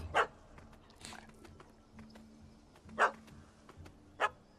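A small dog in The Witcher 3: Hearts of Stone game barks in short sharp yaps, three distinct barks spaced irregularly over quiet ambient game sound, moderately close.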